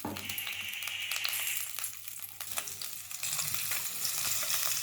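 A paste of ground onion, garlic and fenugreek sizzles and crackles steadily in a hot pan, with occasional scraping and stirring, no talking.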